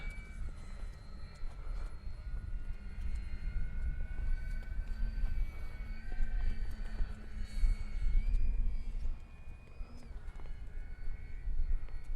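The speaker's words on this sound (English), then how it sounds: "Beautiful flying plane." A radio-controlled E-flite Beechcraft D18 model airplane drones steadily overhead, its engine whine rising and falling slightly in pitch as it flies past.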